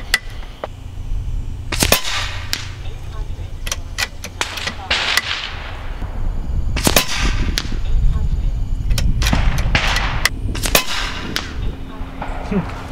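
A Vulcan 3 airgun in .30 or .25 calibre fires slugs at targets 100 yards away, making a series of sharp, loud, irregularly spaced cracks over outdoor background noise, with some talking between shots.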